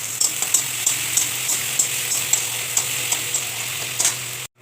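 Bay leaf with ginger, garlic and onion paste fries in a pan, sizzling steadily close up, with light ticks of stirring throughout.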